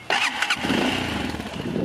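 A dirt bike with its stock exhaust starts up and settles into a steady mid-pitched idle, close and moderately loud, with no talk.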